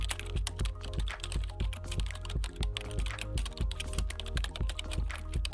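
Rapid clicking of keys on a computer keyboard while entering a search term, a steady run of close, crisp taps with short pauses and no talking.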